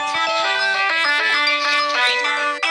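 A bright tonal melody of singing creature voices from the Sprunki game plays, with stacked sustained notes changing pitch in quick succession, loud and clear with no talk over it.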